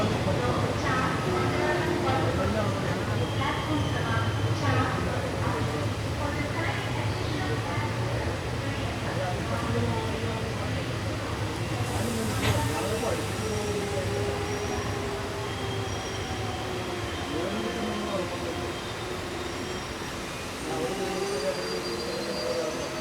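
The 56603 Coimbatore–Shoranur passenger train runs along with a constant rumble of wheels on track and occasional squeals and clatter, heard from inside the carriage with voices talking underneath.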